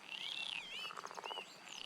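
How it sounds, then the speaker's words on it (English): By a rocky river bank in the video game Roadwarden, frogs and birds chirp and trill in quick sweeping calls over a faint insect hum, a gentle ambient chorus with no speech. "The rocky bank smells fresh and is filled with sounds of frogs, insects, and birds."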